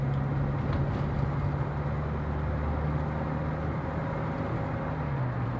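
A Toyota Innova petrol engine running under load, a steady droning hum with a tone that dips near the end as the automatic gearbox shifts, heard from inside the car without speech.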